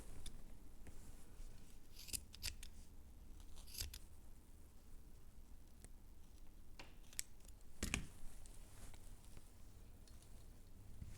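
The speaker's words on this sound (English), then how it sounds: "cut the loops." Scissors snip through the loops of a yarn tassel, a few quiet, sharp cuts scattered over a faint, steady background, with no talking.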